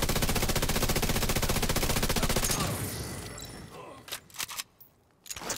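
FAMAS assault rifle fire in the video game The Division 2, a loud rapid automatic burst lasting about three seconds, then fading into quieter scattered in-game sounds and clicks.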